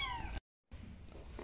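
A cat meows twice, close and clear, separated by a short silence, with a second cat nearby.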